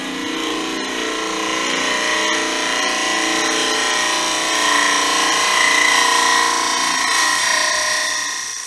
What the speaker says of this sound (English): So one more with the spindle gouge